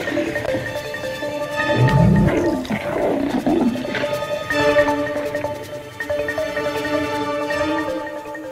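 A wild lion pride roars and growls in a tense standoff with hunters, several animals sounding together in a dense continuous layer of snarls and rumbles with no talk.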